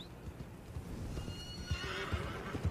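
A horse in the Red Dead Online video game whinnies softly and clops its hooves a few times against a steady rumble of game ambience, with no voices.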